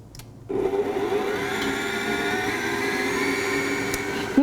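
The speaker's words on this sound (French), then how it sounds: "Je place maintenant la feuille sur le batteur. Nous allons mélanger ensuite la panade quelques minutes afin de la faire refroidir." A stand mixer fitted with a paddle beats a warm choux pastry panade for profiteroles, starting abruptly with a steady, loud motor whir and rhythmic churning that holds evenly to the end, with no talking.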